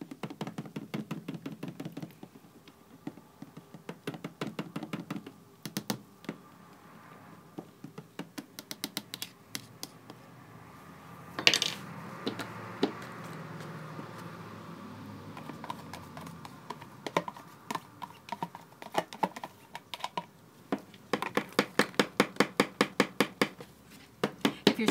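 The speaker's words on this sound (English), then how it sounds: "And this is just mixing up the green powdered colorant." A light whisk mixes green powdered colorant into thick soap batter in a container. It makes quick, irregular clicking and tapping strokes, close and fairly quiet, with short pauses between bursts and no talking.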